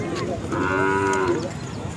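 A Khillar cow gives a single drawn-out moo, clear and fairly close, amid the low background murmur of a cattle market at Sangola.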